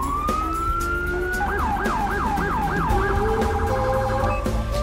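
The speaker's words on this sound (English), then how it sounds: "I did go ahead and install a new siren. It is a rumbler siren." A police rumbler siren in the GTA V game wails loud and close, moving from a steady rising tone into repeated wavering yelps and then a fast warble over a low, pulsing rumble.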